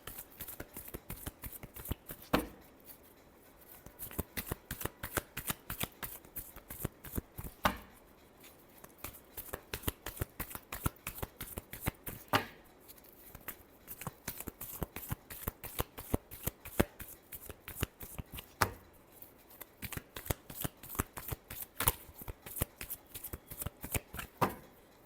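Tarot cards shuffled by hand during a Capricorn reading, giving close, crisp riffling bursts that repeat in a steady rhythm for the whole stretch, with short pauses between shuffles.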